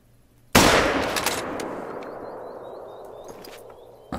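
A single loud hunting rifle shot in theHunter: Call of the Wild cracks sharply and rolls off in a long fading echo across open terrain, with faint birdsong behind it.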